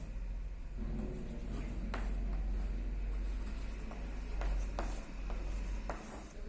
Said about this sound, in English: First everyone open your notebook and write today's date.